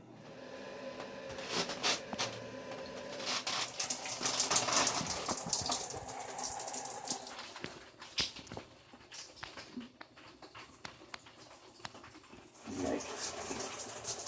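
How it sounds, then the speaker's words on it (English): Off-grid shower running with rainwater heated by a wood burner, a steady spray and splash of water with fluctuating intensity and occasional knocks and clatters nearby. "a rainwater, fire heated shower."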